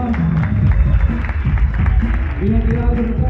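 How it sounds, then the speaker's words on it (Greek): Audience at a breakdance battle applauds, a steady wash of claps and crowd noise running throughout with someone talking over it through a microphone. "Please, παρακαλώ χειροκρότημα."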